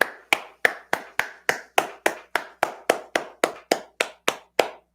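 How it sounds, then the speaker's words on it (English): Hand clapping in a steady, evenly spaced rhythm, about sixteen crisp claps over five seconds, close and alone with no talking. "Clap."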